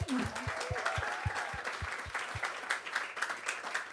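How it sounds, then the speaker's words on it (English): An audience applauds at an evening event in a theatre venue, a steady spread of clapping, fairly quiet, with a low, regular thumping pulse beneath it during the first half. "Round of applause for that."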